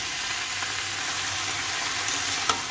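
Mixed vegetables (cauliflower, cabbage, carrot, peas, potato and green chili) fry in a pan for a spicy vegetable pulao, giving a steady close hiss and crackle with a faint stir near the end.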